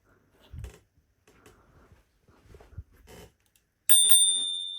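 A bright electric scooter bell (Pure Advance) rings once with a sharp ding that rings on and fades, following some quiet clicks and handling noises.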